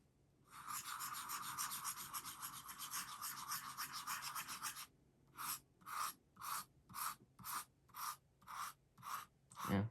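An Aurora 88 Anniversario flex fountain pen nib scratches across paper, close and quiet, first in one long continuous stroke, then in about nine short, evenly spaced strokes.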